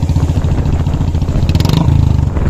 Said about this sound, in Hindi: उसका साइलेंसर की आवाज कैसी लग रही है